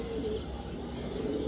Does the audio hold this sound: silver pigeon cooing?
yes